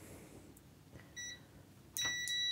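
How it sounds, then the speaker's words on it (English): A multimeter set to continuity, probing the fuse on a 24 V battery charger board, gives a couple of short, close electronic beeps amid quiet handling noise. "Let's get the meter in continuity."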